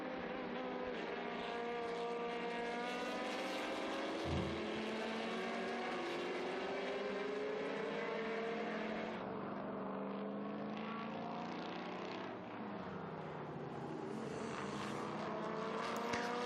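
Historic racing cars lapping the Estoril circuit at a classic race meeting, including a B19 and a De Tomaso Mangusta. Engines roar past one after another, their revving notes rising and falling at a moderate distance.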